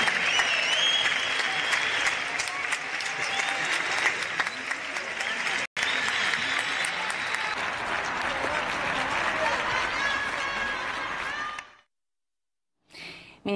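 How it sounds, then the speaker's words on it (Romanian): Crowds in Spain applaud doctors treating COVID-19 from their balconies, a dense, sustained clatter of clapping echoing across the streets for about eleven seconds before it falls to near silence. "Spaniolii au răsplătit cu ovații pe medicii care își riscau viața pentru tratarea bolnavilor de COVID-19."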